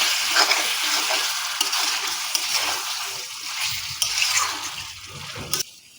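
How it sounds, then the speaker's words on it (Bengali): Dhaniya chicken being stirred in a pan after the lid is lifted: continuous bubbling sizzle with occasional scraping strokes of a spoon, close and fairly loud, easing off near the end, with no talking. "এটাকে ভালো করে আরও একবার মিশিয়ে নিচ্ছি।"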